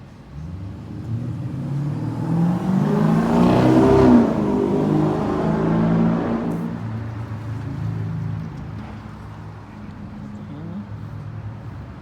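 A car with one headlight out drives past on a street at night, its engine swelling loud as it nears and then fading away, with no talking.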